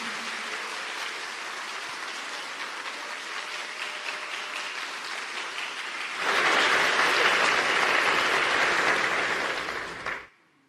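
A congregation at a religious gathering applauds God, sustained dense clapping that swells louder partway through before cutting off abruptly near the end.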